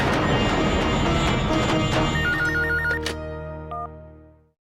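A telephone rings loudly and close with a repeating electronic ringtone that cuts off and fades into silence after a few seconds.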